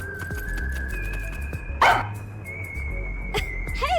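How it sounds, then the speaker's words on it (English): A dog in the video game Master Detective Archives: Rain Code barks and yips a few times, with one sharp bark standing out. The barks sit over steady game music and ambience, and no one speaks. "So I looked around and noticed Sugar barking at this room."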